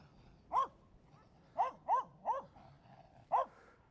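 A dog barks five times in sharp, separate yaps at moderate distance, with short uneven gaps between them against a quiet outdoor background.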